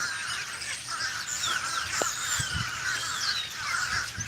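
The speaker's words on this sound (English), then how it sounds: "What is up with the birds? You hear that?" Crows cawing from trees in a warm desert-town setting, a steady chorus of harsh calls layered over one another throughout, moderately loud and close, with no talk.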